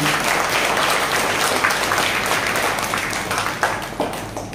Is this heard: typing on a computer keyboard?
no